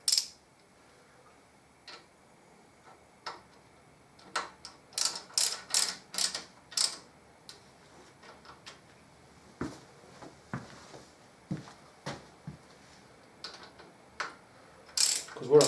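Socket ratchet snugging the fork pinch bolts on a Harley-Davidson Deuce trike conversion, heard as bursts of quick close clicks in uneven runs with quiet gaps between them.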